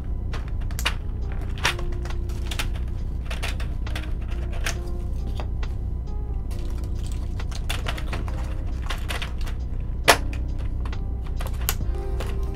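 Fast bursts of clacky keystrokes come from a Volcano660 mechanical keyboard fitted with H1 switches, close and crisp, with scattered pauses and one louder bottom-out thock near the end.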